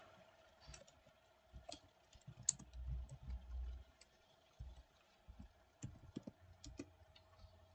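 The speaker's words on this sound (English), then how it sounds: "simply tap on the Windows key in your keyboard and then search for" Typing a search on a computer keyboard after pressing the Windows key: scattered soft key clicks in short bursts, close and faint over a steady hum.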